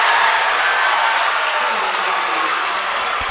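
At a varsity boys' basketball regional game, the Pine River home crowd roars loudly in a dense, sustained wash of cheering and applause that eases off slightly toward the end.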